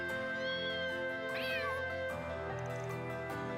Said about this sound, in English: It plays a collection of cute cat sounds I recorded in the capital.